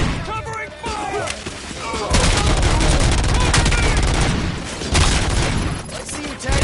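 Covering gunfire in a Robocop game: loud rapid bursts and heavy booming shots pound steadily in the foreground, with shouted voices mixed in.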